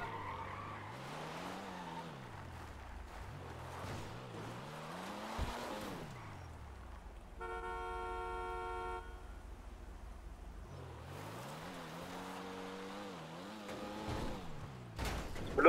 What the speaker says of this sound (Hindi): तुमको मेरी गाड़ी का आवाज आ रहा?